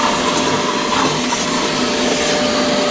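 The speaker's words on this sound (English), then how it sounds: "How good is a wet dry vacuum?" A wet dry vacuum running nearby as a loud, steady whine and rush with a constant motor tone, used in a house flooded after a power outage, with no talk.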